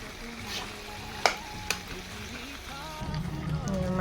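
Duck meat fries in oil in a pan with a continuous hiss and crackle and a couple of sharp clanks from stirring, ending in a louder sizzle.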